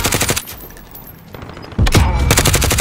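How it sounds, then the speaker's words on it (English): Rapid bursts of automatic gunfire in Call of Duty Warzone, with a dense volley at the start and sustained loud firing through the second half after a brief quieter gap. "Oh, there's another guy shooting."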